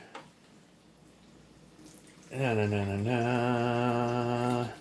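Half a cup of water poured into a cooking pan on a burner turned all the way up, starting midway as a loud, steady, resonant rush that carries on to the end.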